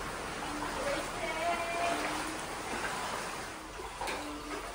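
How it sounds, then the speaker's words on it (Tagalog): Floodwater from a typhoon rushing out through an opening in a flooded house, a steady low wash of flowing water with voices talking faintly over it. "Binuksan na ni King yung butas, kabsat, para lumabas yung tubig"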